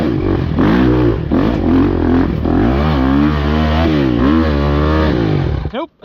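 Dirt bike engine revving hard on a muddy clay hill climb during an Ohio enduro, loud and close with repeated throttle surges and labouring pitch swings before cutting off.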